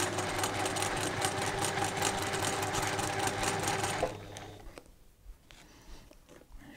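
A sewing machine runs steadily while stitching a quilt seam, a close, continuous mechanical whir for about four seconds before it stops, leaving quiet handling noises.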